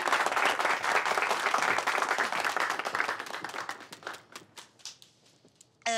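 A crowd in a neighbourhood gathering breaks into dense applause that thins out into a few scattered claps before a voice cuts in at the end.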